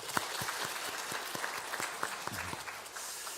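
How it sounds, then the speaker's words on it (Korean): Church congregation applauding during a Sunday service: sparse, fairly quiet clapping with distinct individual claps standing out in an uneven rhythm, and a short vocal sound near the end. "수고해 주신 분들 격려하면서 박수 한번 하시겠습니다."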